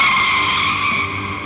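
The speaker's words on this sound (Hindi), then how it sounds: "ड्राइवर, गाड़ी रोको।" A car brakes hard to a stop, its tires letting out a loud, continuous high-pitched skid squeal, close and alone, slowly easing off.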